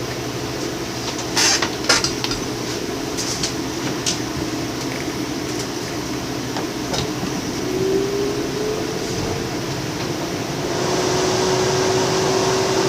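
Three electric fans switched on in a muggy tarantula room, a continuous broadband whoosh with faint clicks and knocks as they start, the airflow growing fuller toward the end, with no talking.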